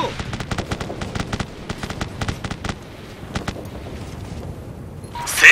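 Suppressing fire in the military shooter game Operation Flashpoint: rapid bursts of automatic gunfire crackle in quick, uneven succession for several seconds, thinning out toward the end before a brief loud burst.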